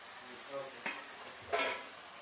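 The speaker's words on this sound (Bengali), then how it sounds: "জল দিয়ে ভালো করে নাড়িয়ে নেব, তারপরে কষিয়ে নেব।" Ground spices simmering in a little water in a pan make a soft, low sizzle, broken by two brief scraping stirs of a utensil against the pan, close by.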